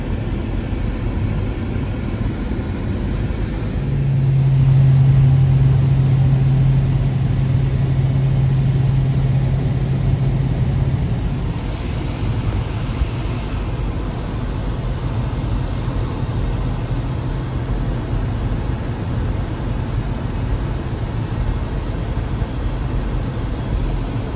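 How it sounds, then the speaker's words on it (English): Airplane passing overhead outdoors, a steady low engine drone that swells for several seconds then settles into a continuous distant rumble beneath wind and background noise. "A bird. Oh, no, that's actually a plane."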